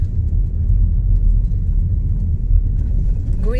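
A car rolls steadily along a road through remote, tree-lined countryside, with a continuous low engine and tyre rumble throughout and a brief rising whine near the end.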